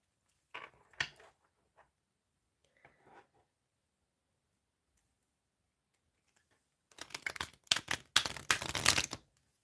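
Soft card riffles and taps at first, then a loud, close burst of rapid shuffling clatter toward the end.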